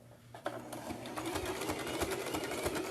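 A sewing machine working a buttonhole runs continuously at close range, a fast steady mechanical whirr with rapid needle ticking throughout and no talk.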